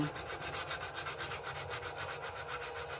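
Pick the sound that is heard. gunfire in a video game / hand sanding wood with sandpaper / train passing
hand sanding wood with sandpaper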